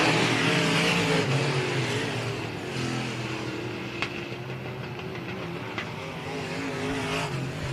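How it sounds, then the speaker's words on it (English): Race cars in a heat at Wayne County Speedway roar together toward the finish line, a loud, continuous engine drone with no pause across the stretch. "They'll drag race to the line, and it's going to be Alexander"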